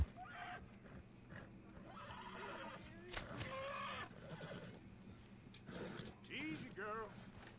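A horse whinnies and snorts in Red Dead Redemption 2 during play, with several short neighs and hoof sounds over a low game ambience, while someone talks intermittently over them.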